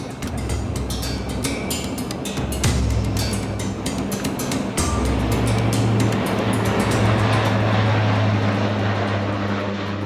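Dash 8 turboprop airliner in flight, heard from inside as a loud, continuous engine and propeller drone with a steady low hum, plus scattered clicks and brief shifts in the tone.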